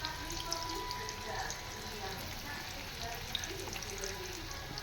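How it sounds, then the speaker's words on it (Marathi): Taro leaf rolls (aluvadi) fry in hot oil with a steady, soft sizzle and faint crackle throughout, under low kitchen background noise. "छान अशा अळूवड्या फ्राय करून आपण घेतलो आहे. मस्त खुसखुशीत."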